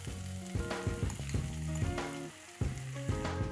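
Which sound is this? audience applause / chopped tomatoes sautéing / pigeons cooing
chopped tomatoes sautéing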